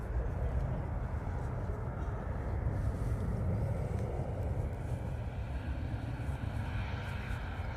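Ryanair airliner departing Dublin Airport bound for London Stansted, a steady low broadband engine roar holding evenly throughout at moderate distance.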